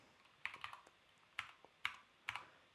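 Calculator buttons are pressed in a quiet room, giving about five or six crisp, separate clicks spaced unevenly, close and fairly soft, with no talk.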